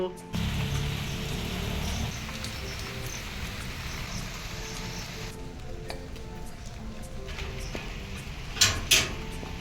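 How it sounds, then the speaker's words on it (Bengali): Heavy downpour outside on a rainy morning, a steady dense hiss of rain throughout with a brief dip midway, a couple of clattering knocks near the end and faint talk underneath. "বাইরে মুষলধারে বৃষ্টি হচ্ছে"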